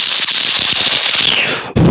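A voice imitates a Venom sound effect, a loud, hissing, crackling rasp held steadily for almost two seconds and then cut off abruptly.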